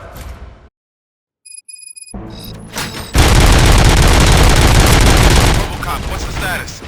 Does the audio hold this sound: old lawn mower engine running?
no